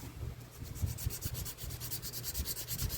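A sanding block rubs back and forth over a firearm surface in steady, rapid strokes, a continuous close scratchy hiss with a rhythmic pulse and no voices.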